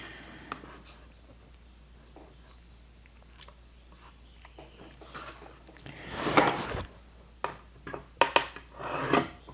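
Pencil scratching a marking line along a wooden gourd banjo neck, faint scratches at first, then louder rubbing strokes in short bursts near the end.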